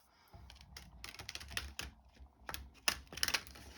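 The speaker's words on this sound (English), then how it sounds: "y'all know how good I am at shuffling, so maybe I'll just do this off camera" A deck of cards is shuffled close by and quietly, in quick bursts of flicking, clicking card noise that end in a rapid riffle.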